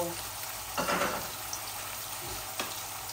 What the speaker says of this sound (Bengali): এখন আমি রসুনগুলা দিয়ে দিচ্ছি বিসমিল্লাহ মাছের মধ্যে। অল্প একটু মাছ ভুনা ভুনা করব।